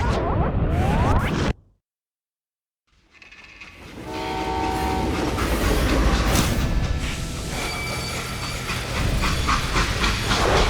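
A freight train in the Western shooter Call of Juarez Gunslinger roars past with heavy rumbling, hissing steam and a sounded horn, the noise cutting out briefly to silence before the loud rolling clatter returns and continues.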